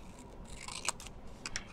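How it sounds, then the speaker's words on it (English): Scissors snip through paper while cutting out a polar bear nightlight craft, giving a few quiet, close crisp cuts spaced over a second or two against a soft background hiss. "and then we're just going to make a cut"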